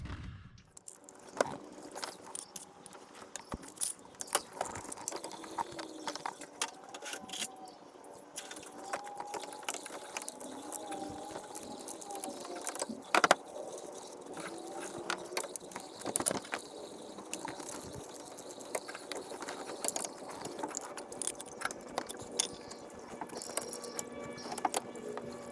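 A hand ratchet loosens bolts on a car's water pump bracket, giving intermittent clicking and mechanical rattles with scattered metallic taps, fairly close and moderately quiet, no talking.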